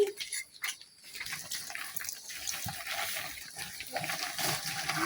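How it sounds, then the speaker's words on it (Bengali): Water is poured into a small spice bowl to rinse out leftover masala, making a close running, splashing trickle that follows a brief voice at the start. "এখন আমি বাটিটা দইয়া অল্প একটু পানি দিয়ে দেন।"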